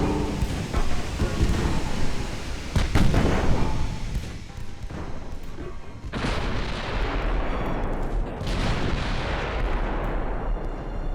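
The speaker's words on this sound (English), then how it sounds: "Oh, she can still fire with that rear turret." Heavy naval guns boom from a warship's rear turret in the Ultimate Admiral Dreadnoughts 1920 campaign, loud repeated blasts rolling into one another with rumbling tails and constant battle noise beneath.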